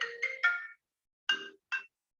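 A mobile phone ringtone goes off during a talk, playing a few short melodic electronic bursts, a pause, then two more brief tones, fairly close and clear with no talking over it.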